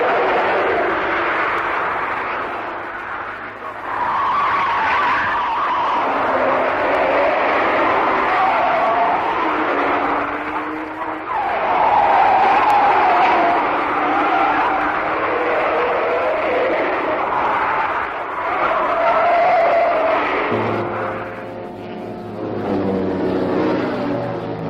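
Engines of 1965 saloon racing cars, including Ford Cortinas, drone and swell as the pack jostles through the esses at the Armstrong 500, with rising and falling revs and a commentator talking over them throughout.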